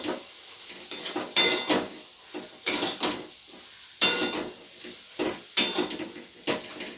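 Tomato goes into a frying shrimp and taro stolon curry, with rhythmic bursts of spatula stirring and scraping against the pan over a light sizzle, each stroke close and distinct.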